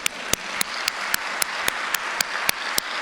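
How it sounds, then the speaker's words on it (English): Applause fills the hall at a fire recruit academy graduation, with one nearby pair of hands striking sharp, evenly spaced claps over the softer general patter of the crowd. "I think that's worth a round of applause as well."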